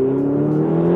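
A Ferrari 488 GTB with a twin-turbo V8 holds a steady, close engine drone with a strong tonal hum, heard briefly and alone.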